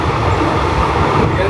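A sleeper train running from Bangkok to Chiang Mai rumbles steadily inside the carriage, a dense, loud low roar with constant rattling and no distinct beats.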